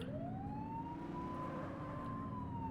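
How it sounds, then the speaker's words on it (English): Police car siren in a video game, a steady wailing tone rising and holding over a dense engine rumble, loud and continuous throughout. "responding to an emergency, activate your lights and siren"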